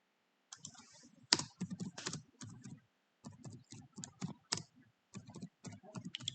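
Computer keyboard typing in quick bursts of clicky keystrokes with short pauses between runs, close and fairly quiet, with no talking.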